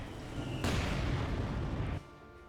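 In Company of Heroes 2, a Panzer IV hits a mine and sets off a sudden loud explosion. The blast erupts sharply after a quieter battlefield bed, roars for over a second, then cuts off abruptly into low ambient rumble.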